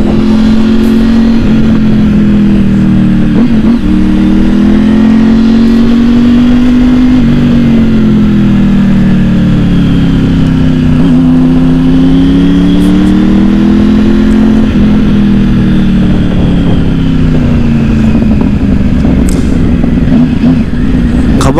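A brand-new, unplated 2023 zero-kilometre motorcycle runs close and loud, its engine holding a steady drone that swells and dips gently in pitch for about twenty seconds without a break.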